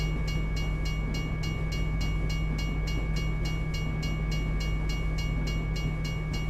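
A long freight train rolls past in a trucking video game, a loud steady rumble with a regular rhythmic clatter of wheels over rail joints throughout.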